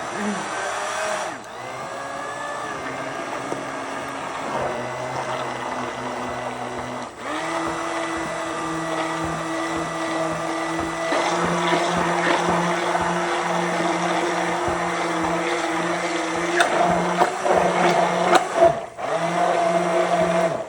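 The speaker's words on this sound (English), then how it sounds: "you're gonna take an immersion blender and you're gonna blend it all together" An immersion blender whirs through a sauce inside a mason jar, its motor droning steadily with shifts in pitch and brief cutoffs as it is stopped and restarted, running loud and close with no talking.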